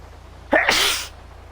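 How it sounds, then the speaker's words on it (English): One close, sudden sneeze bursts out after a quiet stretch and trails off within half a second, alone with no speech. "I'm holding in a sneeze."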